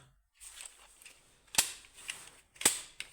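Sharp mechanical snaps from the switch mechanism inside an automatic transfer switch, two loud clicks standing out among smaller rattling clicks, close up.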